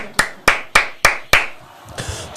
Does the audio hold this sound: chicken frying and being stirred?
no